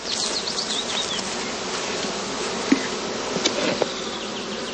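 Bees buzz steadily around nucleus boxes set out in the open at a heather skep apiary on heathland, a dense continuous hum of many insects nearby with a few louder passes close by.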